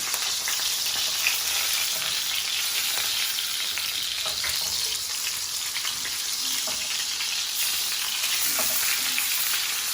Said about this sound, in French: On va mettre notre rôti à colorer